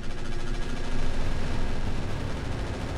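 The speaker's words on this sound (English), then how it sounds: "Those missiles are just insane." Missile barrage firing in the Roguetech mod of the BattleTech video game, a dense, continuous roar of launches and rumbling blasts holding steady and loud throughout with no letup.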